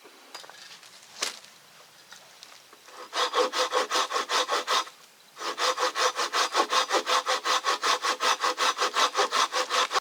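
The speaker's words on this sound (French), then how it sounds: "j'ai débité pas mal de bois avec la scie" Hand saw cutting firewood outdoors at a winter bushcraft camp on ice, a short stroke first, then a long run of steady back-and-forth rasping strokes, a brief pause, and another even rhythmic run, close and loud, no talk.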